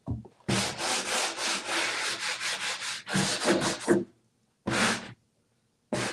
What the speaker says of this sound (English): I've never intentionally made this wet, the sanding sponge.